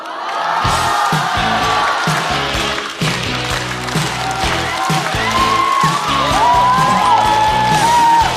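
A studio audience at a stand-up comedy show cheers, whoops and applauds as a comedian walks on, the crowd noise loud and continuous over booming entrance music.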